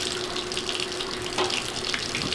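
Steady water running from a newly installed shower in a house under construction, a continuous even hiss with low pressure, moderately quiet and alone.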